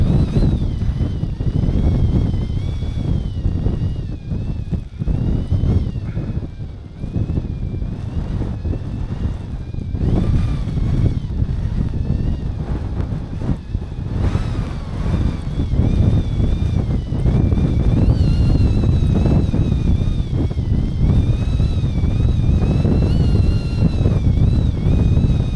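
Wind of about 20 mph blowing across a winter fell top in the Lake District, a loud continuous rushing buffet that swells and gusts throughout, with no voices.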